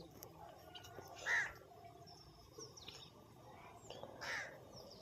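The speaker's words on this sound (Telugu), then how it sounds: "చూడండి కాకి ఎలా పోతుందో" A crow caws a few times at a distance, short harsh calls spaced apart over quiet outdoor ambience.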